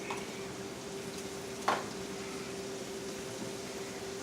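Red and regular onions stir-fry in a pan over high heat, giving a steady, faint sizzle with a single louder scrape of the spoon partway through.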